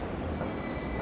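Steady, dense rumble of a pink double-deck tram riding through Hong Kong toward North Point: continuous low wheel and car noise heard from on board, with no talk.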